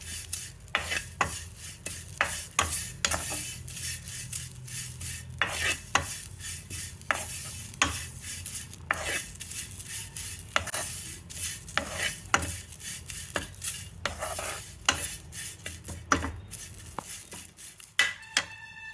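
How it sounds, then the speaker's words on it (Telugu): Drumstick leaves dry-roasting in a pan, stirred steadily for a rustling, crackling sizzle broken by frequent scraping strokes of the spoon against the metal, continuous and close with no talking. "మునగాకు చూసారా, గలగల సౌండ్ వస్తుంది."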